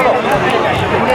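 A busy crowd at Har Ki Pauri in Haridwar, a dense near babble of many voices and shuffling footsteps with faint distant clatter, continuous and moderately loud.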